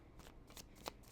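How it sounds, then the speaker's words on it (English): A deck of tarot-style cards is shuffled for a card reading, giving a few quiet, close riffling bursts in quick succession, with no voice. "So we're going to go ahead and get some cards out."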